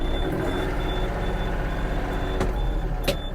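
Yanmar AF-28 mini tractor reversing, with a regular high reversing beep repeating over a steady low engine drone, heard close, with a couple of sharp brief clicks near the end.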